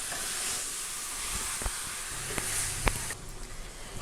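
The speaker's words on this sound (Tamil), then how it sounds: "சிக்கன் வந்துட்டு 4 to 5 மினிட்ஸ் நல்லா ஃப்ரை பண்ணியாச்சு." Chicken frying in hot oil for a Tamil chicken kulambu: a steady bright hiss and sizzle throughout, broken by a few sharp crackles and pops, before the sizzle dips and turns quieter near the end.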